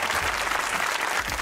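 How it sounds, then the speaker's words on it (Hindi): A studio audience at a comedy talk show breaks into applause, a brief, dense burst of clapping heard steadily throughout. "तालियां"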